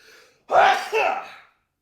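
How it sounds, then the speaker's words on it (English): A single loud sneeze with a sharp inhaled build-up and forceful burst, close up, preceded by a brief faint voice. "I had to sneeze."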